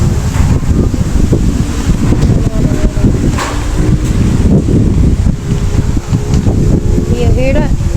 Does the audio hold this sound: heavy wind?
yes